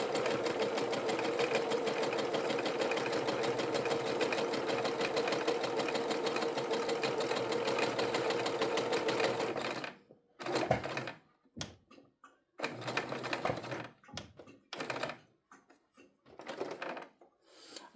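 Computerized sewing machine stitching tote bag fabric at medium speed, a steady rapid mechanical whir and needle chatter for about ten seconds, then several short stop-start bursts with quiet gaps.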